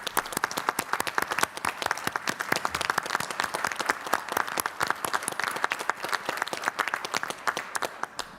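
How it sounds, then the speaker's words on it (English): A town meeting audience at a deliberative session gives a round of applause, with crisp individual claps at moderate distance holding steady for several seconds before trailing off. "we'll give them a round of applause for all the work that they do"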